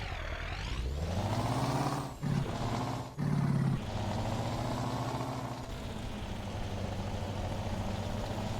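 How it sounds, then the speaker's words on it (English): A Scania T cab truck engine in Euro Truck Simulator 2 rumbles steadily as a deep, close drone, revving up and shifting pitch through gear changes, with a hiss of air between shifts and no talking. "God, I have missed the sound of this truck."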